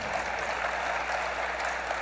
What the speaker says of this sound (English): Wait, I hear an applause.